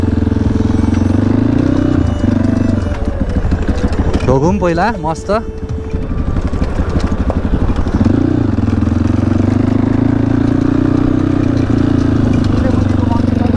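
A dirt bike motorcycle engine rumbles loud and steady, idling and then pulling away while riding, with someone briefly talking over it midway.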